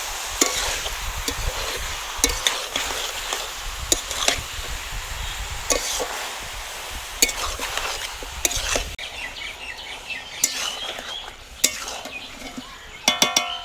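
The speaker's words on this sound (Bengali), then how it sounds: "বাঁধাকপি মাংস দুটোই ভালোভাবে কষিয়ে নেবো" Cabbage and chicken stir-fried together in a pan, with repeated scraping and clanking of a spatula over a steady sizzle, no talk.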